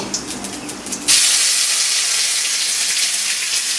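Spice paste of ginger, cumin, green chilli, onion and garlic hits hot oil with bay leaf and nigella seeds for rohu fish kalia. A loud, sudden sizzling hiss erupts after a second of quieter clatter and holds steadily, close by.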